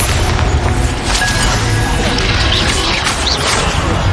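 A dense, sustained rumble of explosive magic and crashing debris from the Bombarda spell in Hogwarts Legacy, loud and continuous with scattered impacts.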